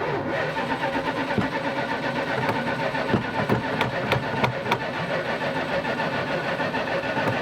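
A 1977 Dodge engine cranks steadily on its starter, a continuous mechanical churning with a faint ticking pulse and a few sharp clicks near the middle, heard up close with no talking.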